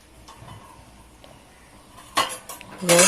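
Dry fruits being tipped into a pan of semolina sheera (godacha shira) with cardamom and sugar, giving a few soft clinks and scrapes that build into two brief louder clatters of metal utensils near the end.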